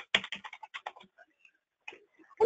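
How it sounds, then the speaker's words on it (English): Quick bursts of keystrokes on a computer keyboard clatter in a rapid run, pause, then resume with a few scattered taps, close and crisp during an online webinar. "I'm hearing some typing"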